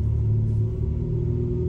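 Ferrari 488 engine idling close by, a steady low rumble with a deep, even hum and no revving, heard alone for a short moment.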